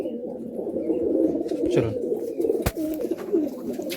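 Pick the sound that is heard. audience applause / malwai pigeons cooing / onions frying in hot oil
malwai pigeons cooing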